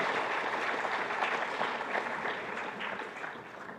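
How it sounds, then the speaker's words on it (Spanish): A church congregation applauds for the Lord at a Bible seminar, a steady wash of many hands clapping together, fairly distant and gradually fading toward the end. "Un aplauso más para el Señor."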